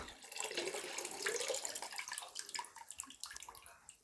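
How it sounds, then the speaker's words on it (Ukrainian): Wormwood syrup infusion poured into a bucket, a faint close splashing and trickling of liquid that continues for a few seconds. "Виливаємо так, весь, виливаємо його всюди в відро"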